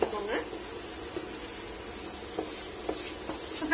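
Golden coin eggs with a little spring onion sizzle steadily in a pan over a high flame, a constant frying hiss with a few soft scrapes and taps as they are tossed.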